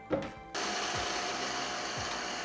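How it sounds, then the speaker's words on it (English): A blender starts up abruptly after a brief clunk and grinds dry oats into flour, a loud, steady whirring buzz with a couple of low thumps as the oats tumble. "Take my oats and I throw them in a blender and I make oat flour."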